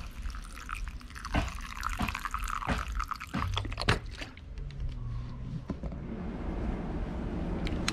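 Shoyu soy sauce is poured into a homemade dipping sauce of green onion, chili pepper and vinegar, a close, steady liquid trickle with a few clinks and drips, then a quieter continuous flow.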